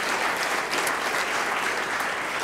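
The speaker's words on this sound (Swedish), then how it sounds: "Stor applåd för Social Video som filmar och dokumenterar detta." Audience applause fills the room at a competition start, a steady dense wash of clapping from a large crowd, close and continuous without pause.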